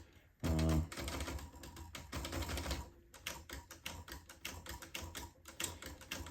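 Keys clacking and the carriage mechanism clunking on a Smith Corona tabulator typewriter as its backspace key is pressed, a sharp loud strike followed by a run of close mechanical taps and clicks.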